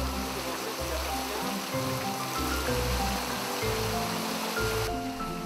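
Canal water pours through opened sluice gates in the Hérault countryside, a steady, broad rushing roar with a pulsing low undertone. Music plays faintly beneath it, and no one speaks.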